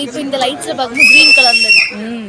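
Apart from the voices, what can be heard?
audience whistling in cinema theatre before film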